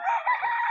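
A young gray crossbred gamecock crows once, a short, loud, close call under a second long.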